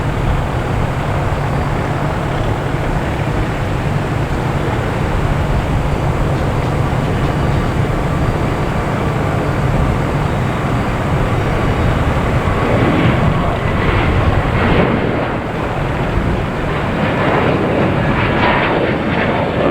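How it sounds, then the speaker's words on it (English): A JetBlue Airbus A321neo taking off at Boston Logan gives a sustained jet engine roar that stays loud and even, gaining some rougher, rumbling texture in the later seconds, with no one speaking. "we got a JetBlue taking off, heading to Chicago at A321neo"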